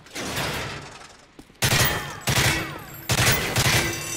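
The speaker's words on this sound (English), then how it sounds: "I like the sound that the bullets make when they drop and hit the floor." Bursts of rapid gunfire in Modern Warfare 3 Spec Ops, three loud sustained volleys following a quieter stretch, with faint metallic clinks of spent bullet casings dropping onto the floor in between.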